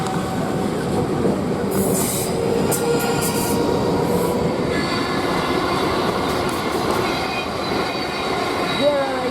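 A passenger train rolls through Queenstown Road station on the South Western Main Line, a steady loud rumble of wheels on rails with squealing and clatter throughout, faint voices in the background.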